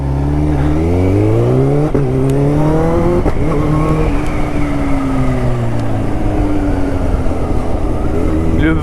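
A Kawasaki Ninja H2 motorcycle engine revs loud and close, rising then settling into a steady roar with a brief voice over it.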